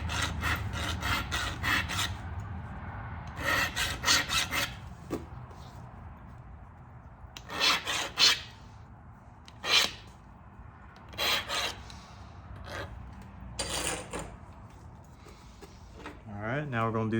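Sharpening the beveled edge of a flint Bolen bevel point by knapping, with close scraping and rubbing strokes in clusters separated by quieter stretches, ending in a few rapid light scrapes.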